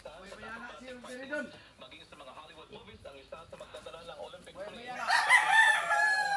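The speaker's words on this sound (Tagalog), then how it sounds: "Daghan po kayo silag manok." Chickens crow and cluck in a yard full of fowl, with a loud burst of crowing near the end, all beneath ongoing talk by someone speaking Cebuano.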